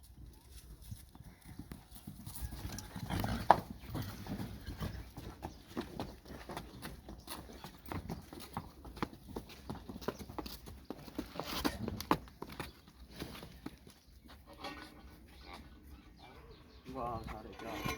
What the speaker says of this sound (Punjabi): ਘੋੜੀ ਨੂੰ ਲਿਆ ਕੇ ਅੰਦਰ ਵਾੜ ਖੜਿਆ